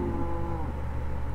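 Cattle mooing in a video game, a steady low lowing from several cows that is loud and close and runs without a break under a constant background hum.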